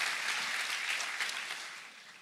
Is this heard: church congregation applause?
yes